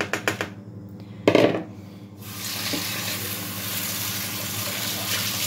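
Cooked rice drained in a strainer for chicken pilaf, with a few metallic clatters and knocks first, then a steady, close rush of water pouring through the strainer.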